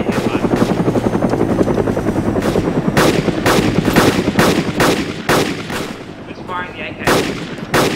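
Rapid AK rifle fire in a video game firefight, repeated loud bursts of sharp shots over a constant helicopter rotor drone, with a voice talking briefly.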